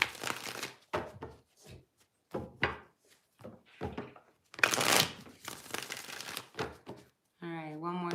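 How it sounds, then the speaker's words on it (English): Tarot cards being shuffled by hand, a run of soft riffling and slapping bursts, near and fairly quiet, with short pauses between shuffles and a voice speaking briefly at the end. "one more shuffle and let's see what's going on"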